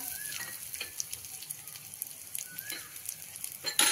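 Curry leaves hit hot oil in a tadka for dal palak, giving a faint, steady crackling sizzle with a few sharper pops and a louder spatter at the very end.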